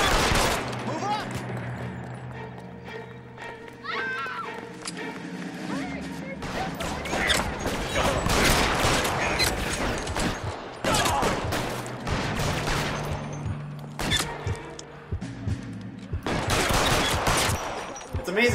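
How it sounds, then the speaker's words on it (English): Gunfire through a grate in L.A. Noire, repeated sharp pistol and gun bursts in irregular clusters over background game sound and talk, loud and close. "Amazing, I'm shooting him through the grate."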